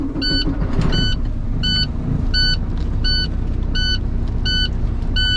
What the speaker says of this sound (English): I'm gonna go ahead and start my truck up.